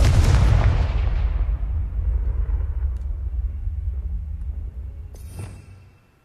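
A Confringo explosive spell from the video game Hogwarts Legacy goes off as a sharp, loud blast, then a long low rumble that slowly fades, with a faint crack near the end.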